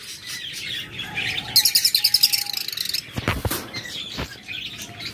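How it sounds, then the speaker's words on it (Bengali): Budgerigars chirp and warble in quick, bright bursts, including a rapid run of repeated high notes, close by with no talking. "আমাদের কাছে রয়েছে হিউজ পরিমাণ বাজরিগার"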